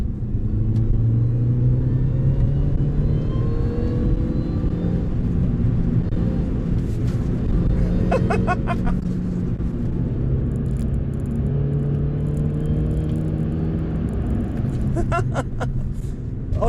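Supercharged MINI Cooper S GP1 engine running with a steady loud rumble and a rising whine as it winds up toward a 7,000 RPM rev limit, heard from inside the car.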